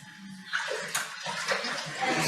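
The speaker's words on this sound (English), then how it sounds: "We stir the dark lake water until it starts to twitch." Water in a vessel stirred during a magic show, sloshing and swirling in a continuous close wash of splashy sound without talk.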